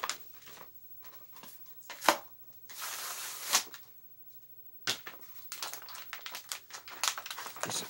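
Crinkling and tearing of plastic packaging on one-dollar Tech Deck toys in bursts, close up, with pauses between rustles and no talking.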